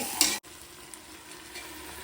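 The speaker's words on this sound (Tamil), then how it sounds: "நம்ம பாருங்க வெங்காயமும் நல்லா வதங்கிடுச்சு" Onions frying in a pan give a soft, steady sizzle that runs through the whole stretch, broken by a brief stir or clatter near the start and then continuing quietly alone.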